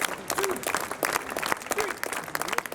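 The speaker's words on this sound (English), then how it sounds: "Everybody, energy. Clap, clap, clap, clap. Louder." A street audience in Prague claps along for a performer, scattered applause mixed with crowd noise and a voice calling out over it.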